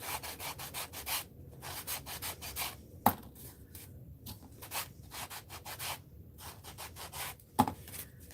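Steady back-and-forth rasping of a sanding block rubbing wood, repeated strokes in an uneven rhythm, close up, with a couple of sharp knocks.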